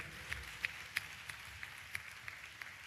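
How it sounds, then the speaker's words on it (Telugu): A church congregation clapping hands in praise during a sermon: steady, evenly spaced rhythmic claps, fairly faint and a little distant, with no voices over them. "చప్పట్లు కొడుతూ స్తోత్రాలు చెప్పు"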